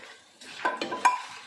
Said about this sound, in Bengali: এবার আমি মাথাটা দিচ্ছি